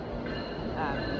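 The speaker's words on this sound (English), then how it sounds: "That's the train." A train passing nearby, a steady rumbling roar with faint wheel squeal rising partway through, continuous for the whole moment.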